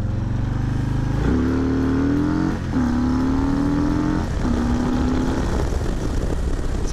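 A 2020 Harley-Davidson Low Rider S motorcycle accelerates hard, its engine note climbing in pitch through three or four rising pulls, each broken by a brief dip at a gear change, loud and close with no speech.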